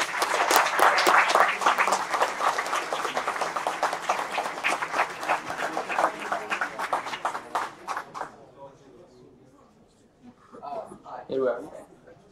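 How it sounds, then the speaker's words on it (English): A meetup audience applauds Tone Vays, a loud, full round of clapping that gradually thins and fades out, followed by quiet room noise and a brief voice. "A big applause for Toon."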